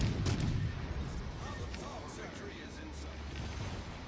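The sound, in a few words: battleship gunfire and shell hits in video game World of Warships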